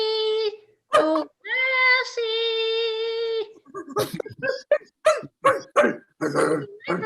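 Small dog barking and yipping up close in a short burst of sharp barks, after a voice holds a long sung or howled note that may imitate the dog.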